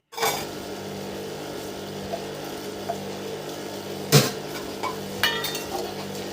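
Dishes and utensils caked with greasy food and Holi colour are washed in a village home: running water hisses steadily while metal pots and cutlery clank now and then, one sharp clatter standing out.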